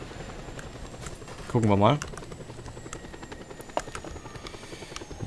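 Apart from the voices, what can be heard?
helicopter flying in the video game Just Cause 2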